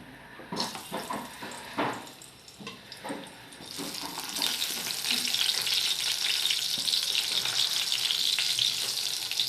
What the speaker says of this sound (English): now I'm going to fry my baby eggplants